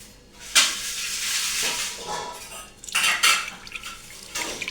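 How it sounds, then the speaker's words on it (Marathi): Herbal hair oil made from amla, bhringraj, aloe vera and jasmine flowers is poured through a metal modak strainer pot, giving wet trickling and clinking metal scrapes in a few bursts, fairly quiet and close. "मी मोदक चाळण म्हणजे पुरणपात्र घेतले आणि त्याच्यात मी ओतून घेणार आहे"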